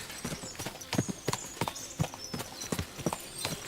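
Horses' hooves clip-clop in a steady, uneven rhythm of sharp strikes, fairly close and moderately loud, with no talk over them.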